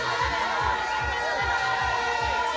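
A dense crowd massed outside a political party headquarters in Côte d'Ivoire roars and cheers at a rally, a steady loud wash of voices over a pulsing low drumbeat, with no single voice standing out.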